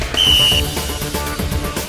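A whistle blown at a fishing tournament, one loud, close, shrill blast lasting about half a second, followed by background noise and commotion.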